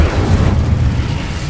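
A fire spell cast in Hogwarts Legacy erupts as a loud, sustained roaring whoosh with heavy low rumble, like a burst of flame, holding steady throughout with no speech.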